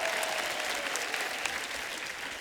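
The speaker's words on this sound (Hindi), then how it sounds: "एक बार जोरदार तालियां हमारे मेहमानों के लिए।" Studio audience applause for guests on a live comedy show, a steady dense wash of clapping that holds at an even level throughout with no speech over it.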